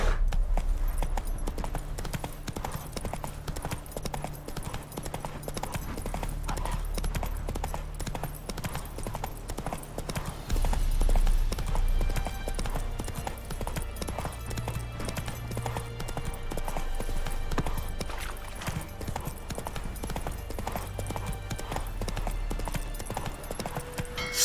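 Hooves of Roach, the horse in The Witcher 3: Wild Hunt next-gen update, clip-clop at a gallop throughout, loud and continuous under swelling game music and ambient noise, with a brief surge around the midpoint.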